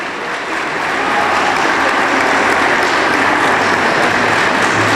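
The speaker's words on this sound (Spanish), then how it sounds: "Dolores Padierna Luna, a quien recibimos con un aplauso lleno de respeto." Sustained, fairly loud applause from an audience welcoming a senator at a Mexican Senate forum, swelling after the first second into a dense, even clapping that continues to the end with no speech.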